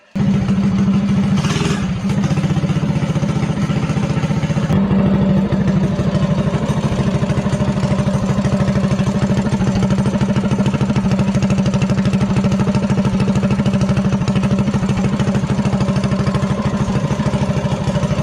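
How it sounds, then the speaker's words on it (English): A minibike engine fitted with a five-foot intake idles steadily and loudly up close, a continuous even rumble with a brief higher rasp near the start. "this thing idles pretty good"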